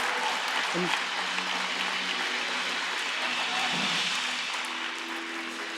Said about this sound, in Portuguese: Será que você pode aplaudir a Jesus aí por isso?